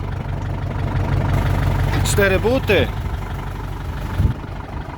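A Massey Ferguson 3080 tractor with a four-cylinder engine idles with a steady low rumble close by, while someone briefly speaks over it partway through.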